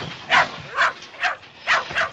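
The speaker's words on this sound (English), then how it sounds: "Chino, put that mutt in the closet." A dog barks five times in a loose, evenly spaced series, each bark short and fairly close, with quiet gaps between and no speech over them.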